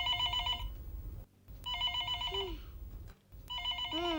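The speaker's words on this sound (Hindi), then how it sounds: "अयो फोन बजा।" A telephone rings in a household scene from a TV comedy episode, three bursts of trilling electronic bell tones separated by short pauses, loud and close over a low background hum.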